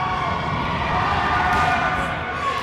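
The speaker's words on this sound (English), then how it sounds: "fans' energy here as they try and get in his head with their loud cheering" Regi Panthers fans cheer loudly and steadily at a junior boys volleyball game, a dense, sustained crowd roar that fills the gym without letup.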